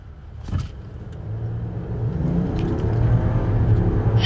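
A 2023 Jeep Grand Cherokee L with a V6 and eight-speed automatic accelerating hard from a standstill, heard from inside as a low engine drone that builds steadily in loudness, with no talking.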